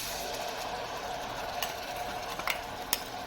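Tomato paste cooks in oil with fried garlic, giving a steady close sizzle broken by a few soft stirring clicks, with no voices.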